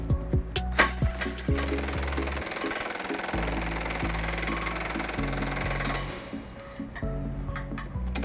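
Socket wrench tightening the trailer hitch bolts under a 2019 Toyota Sienna: a few sharp clicks, then a steady, loud mechanical whir that runs in stretches and pauses, close up.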